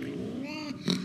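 A cat at the vet for a dental checkup on tartar buildup and diseased teeth lets out a brief, faint, drawn-out meow or growl over a low room background.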